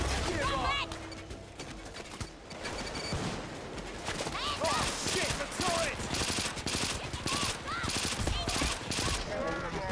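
Rapid gunfire in a Payday 2 heist on Heat Street, dense bursts of automatic shots layered with scattered single cracks throughout, with voices talking over the shooting.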